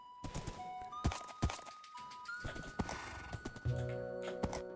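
Horse hooves clip-clop in a Minecraft-style survival video game, a series of loud close thuds with irregular rhythm over game tones and background music.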